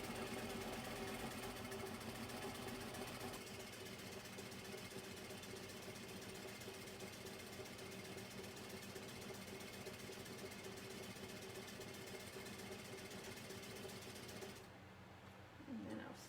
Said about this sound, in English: I'm going to do a couple stitches, back stitch, and then